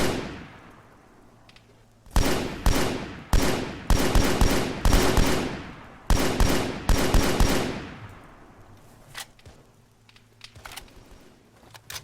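Loud automatic gunfire at a soldier in a video game battle: several rapid, rattling bursts follow one another for several seconds, then fade into sparser distant shots and quiet.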